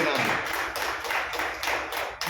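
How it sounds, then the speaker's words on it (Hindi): A church congregation claps hands together in a steady, rhythmic beat, giving a full, dense crowd sound that is close and loud over a short span. "ताली बजाओ इसके नाम"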